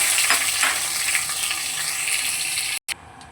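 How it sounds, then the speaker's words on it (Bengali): Five-spice tempering sizzles steadily in hot mustard oil, a loud close crackling hiss that runs without a break, then cuts out for a moment near the end. "তেলটা আমার গরম হয়ে গেছে, এবার ফোড়নের জন্য যেগুলো রেডি করেছি সেগুলোকে দিয়ে দিলাম"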